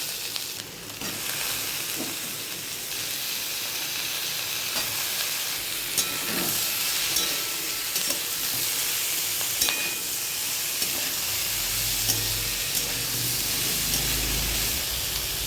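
Ridge gourd pieces tossed into a pan of frying poppy seeds hiss and sizzle steadily and loudly up close, with occasional spoon stirs and clicks throughout, no voices.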